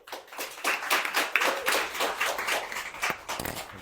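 Scattered audience applause for presenting groups at a teachers' program session, dense overlapping hand claps at moderate level, somewhat distant and uneven.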